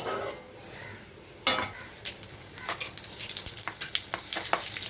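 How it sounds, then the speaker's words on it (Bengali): Nigella seeds, dried red chilli and shredded coconut drop into hot oil in a kadai, breaking into a sharp sizzle after a quiet start, with crackles and pops that grow denser toward the end. "তেলটা গরম হয়ে গেলে কালো জিরে ফোড়ন দেবো, শুকনো লঙ্কা দেবো আর নারকেল কুচি দেবো"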